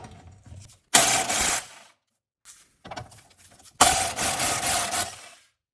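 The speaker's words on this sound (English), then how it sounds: "we'll spin off the two nuts on the bottom of the transmission cross member that hold the transmission mount in place" A power ratchet spins off the two nuts holding the transmission mount to the cross member of an 88-94 Chevy K1500 truck, two loud whirring bursts separated by brief pauses and a few softer clicks and rattles.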